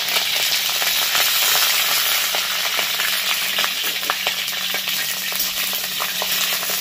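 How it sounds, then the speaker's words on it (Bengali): Cauliflower florets fry in hot white oil in a home kitchen, a steady loud sizzle and crackle with small pops throughout and no talking. "তেলটা পুরোপুরি গরম হয়ে গেছে। এবার ফুলকপিগুলোকে ভালো করে ভেজে নিতে হবে।"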